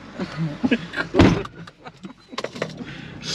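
A car door shuts with a solid thump outdoors by a roadside, a single close, loud slam followed by lighter rattles and distant traffic.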